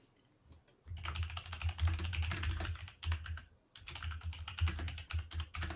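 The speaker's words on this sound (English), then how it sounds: "Blake's typing like a madman." Rapid, continuous clatter of keys on a computer keyboard, dense bursts of fast typing with two short pauses, close and fairly quiet.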